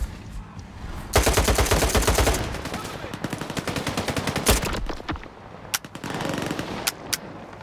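Automatic gunfire from the video game S.T.A.L.K.E.R. 2: Heart of Chornobyl fires in long rapid bursts and then in scattered single shots and short volleys, loud and close.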